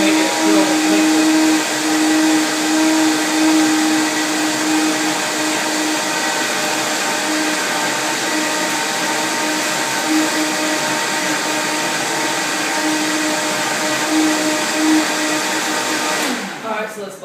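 A Vitamix blender on its high setting whips up a banana smoothie with a loud, steady, high-pitched whir that holds for most of the span and then winds down at the end.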